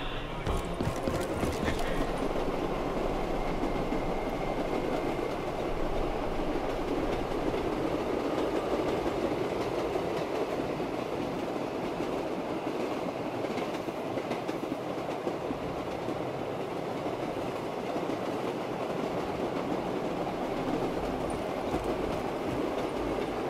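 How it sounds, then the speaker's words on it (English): A train in the video game Call of Duty Black Ops III rumbles steadily with rhythmic clattering wheels, loud and continuous throughout, with a brief sharper burst of clanking at the start. "Let's get this train moving!"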